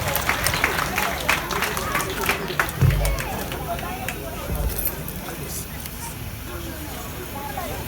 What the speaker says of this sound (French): Merci, mesdames et messieurs, sous vos applaudissements.